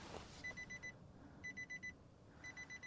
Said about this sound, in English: So we've got beeps.